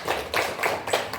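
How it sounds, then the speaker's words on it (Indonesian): Short burst of audience applause in a small seminar room, a few quick waves of clapping from a modest group, fairly close and moderately loud. "Tepuk tangan untuk Pak Ferry."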